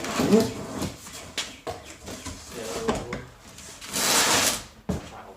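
Cardboard packaging of an AFE Takeda Pro Dry cold air intake for a 2017 Subaru WRX is handled and pulled open, producing scattered rustles, flap scrapes and soft thumps, including a longer tearing swish near the end.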